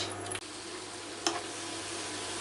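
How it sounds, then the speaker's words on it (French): Minced meat frying in olive or vegetable oil in a pan makes a steady, close sizzle, broken by a couple of brief clicks. "Et on va venir faire cuire notre viande hachée."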